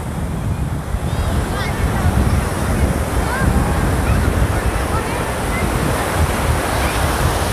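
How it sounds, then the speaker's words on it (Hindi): Sea waves crash onto the beach at Arnala near Mumbai, a continuous loud roar of surf mixed with wind buffeting the microphone, steady throughout with no clear pauses. "काफ़ी खतरनाक लहरें।"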